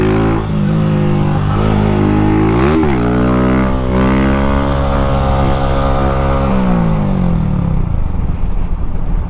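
A motorcycle exhaust rumbles loudly up close, blips once, then holds a long rising rev that drops back toward idle and fades.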